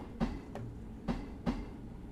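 Modded train sounds in Train Sim World 3: a steady low rumble of a moving train with three or four sharp rail clacks spaced unevenly over a couple of seconds, close and fairly loud.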